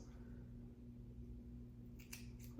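Scissors snip through hair twice near the end, crisp short cuts over a faint steady hum in a quiet room.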